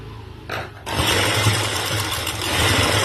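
A sewing machine stitches a finishing strip onto a dupatta, first running lightly and then settling into a loud, steady, close whirring hum that continues to the end, with no voices.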